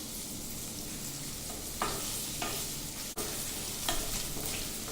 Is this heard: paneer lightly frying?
yes